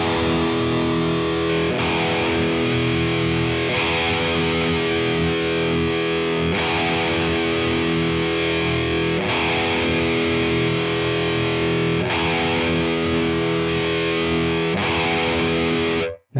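Heavily distorted electric guitar played continuously through a Mesa dual rectifier cabinet impulse response, dense and loud with steady chugging riffs and no talking.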